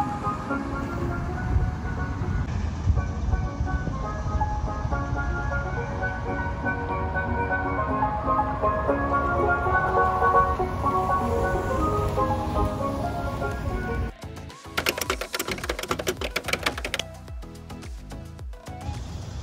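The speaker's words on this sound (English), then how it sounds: "Okay, so let's enable driving sound." A custom driving sound plays through the external Boombox speaker of a 2021 Tesla, a continuous loud musical, tune-like loop lasting about fourteen seconds before it cuts to brief clattering noise.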